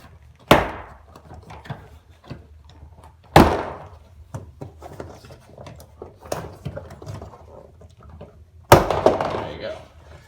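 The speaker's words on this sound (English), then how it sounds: "So you hear that? That's just the clip separating." Plastic retaining clips on a Subaru Forester door panel popping loose, three sharp loud snaps spaced a few seconds apart with softer rattles and handling noise between them.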